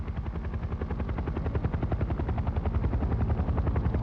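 Steady, rapid thudding of helicopter rotor blades over a 1991 winter rally stage, loud and close, with a rhythmic chop that continues without a break.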